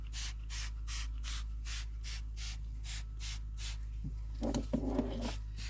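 Carpet extractor working over a seatbelt from a 2010 Ford Fusion, a steady run of rhythmic spray-and-suction strokes, about a dozen evenly spaced bursts over a constant motor hum, close and loud, ending in a few scrubbing rubs.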